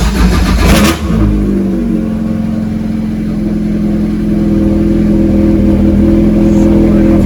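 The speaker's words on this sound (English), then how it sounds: "So kill switch on, ignition on, starter." Engine cranked over by the starter and caught, then running and revving with a loud, close, steady drone after fitting a new WOSPerformance alternator.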